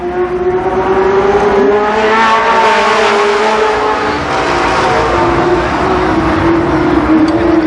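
Super late model stock cars racing at Columbus Motor Speedway, a loud, steady engine roar with droning harmonic tones holding throughout and slight swells as cars pass, no voices.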